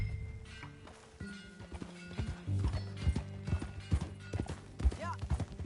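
Horse hooves clip-clop at a steady gait in Red Dead Redemption 2, a rhythmic run of thuds under game music and mechanical noises, with a brief whinny-like call near the end.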